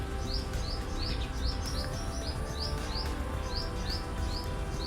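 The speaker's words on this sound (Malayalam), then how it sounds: "ആ കിളികളുടെ ശബ്ദം അത് കേൾക്കുമ്പോൾ നമ്മുടെ ആ ഒരു നാട്ടിലുള്ള ഫീൽ നമുക്ക് കിട്ടുന്നുണ്ട്." Small birds chirping repeatedly in a vegetable garden in Dubai, quick high tweets recurring steadily throughout against a constant noisy background hum.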